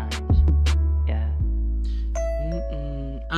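Bright chime-like tones ring out in a song's sparse instrumental, struck notes over a sustained low bass drone that fills the track, with a few higher sustained tones near the end.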